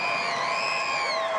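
ACU Wildcats students cheering in the stands at Cowboys Stadium during a football game, a dense, steady crowd roar with high whoops and shouts layered throughout.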